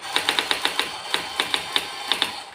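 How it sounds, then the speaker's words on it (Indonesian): A Brother AX-300 electric typewriter types in quick, crisp mechanical strikes, about a dozen keystrokes in uneven bursts with a short pause midway, close up and with no talking. "mesin ketik elektrik dan cara kerjanya"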